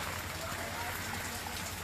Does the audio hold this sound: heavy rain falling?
yes